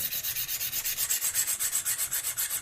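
A KME sharpening stone rubs back and forth along the bevel side of a single-bevel broadhead blade, a close, steady, rhythmic hiss of about seven strokes per second with no talking.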